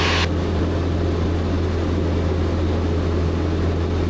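A small propeller airplane cruising on a planned loop over the Arizona desert: a steady, loud, droning engine roar with a constant low hum, unbroken throughout and with no voices.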